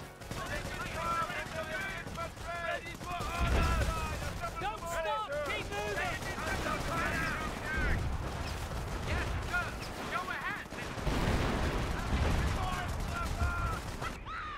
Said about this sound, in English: Fire that fucking mortar.